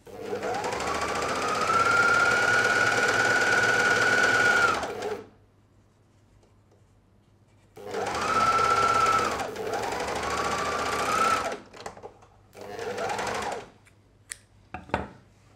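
A household overlock serger stitches a seam in two loud, steady whirring runs separated by a silent pause, then a few short bursts and stops.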